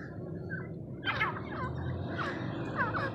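A breeder pair of Irani teetar partridges gives repeated chirring, rippling calls in short bursts over a steady background hum, close and moderately loud.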